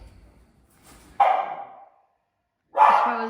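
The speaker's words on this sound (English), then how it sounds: "the dog was barking furiously" A dog barks furiously indoors, two loud, close barks separated by a short silence, with faint rustling before the first.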